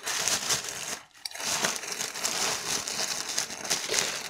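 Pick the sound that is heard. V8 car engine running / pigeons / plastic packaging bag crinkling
plastic packaging bag crinkling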